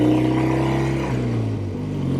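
A classic Triumph TR6R 650 motorcycle with original patina runs while being ridden, its engine a steady, close, loud drone with a rough, even pulse and slight changes in pitch.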